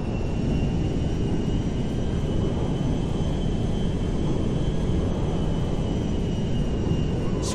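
Cargo jet aircraft engine in Grand Theft Auto V, a steady loud broadband roar with a constant high whine, continuous throughout with no talk.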